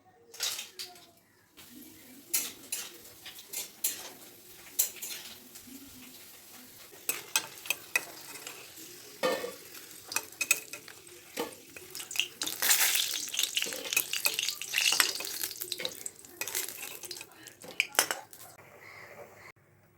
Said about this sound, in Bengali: কড়াইতে তেল দিয়ে দিয়েছি, পাঁপড় ভাজবো এখন